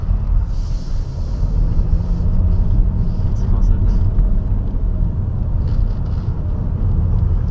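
BMW 430d xDrive Gran Coupé diesel engine revving hard on an ice track, a steady loud rumble of engine and wind noise throughout, with people talking over it.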